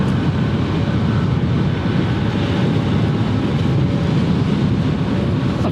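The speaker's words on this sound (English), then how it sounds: "Meanwhile, the Frontier is taxiing over." A Frontier airliner taxis at Cleveland Hopkins airport, heard as a continuous, even jet-engine roar and broadband whoosh at steady loudness, with no voices.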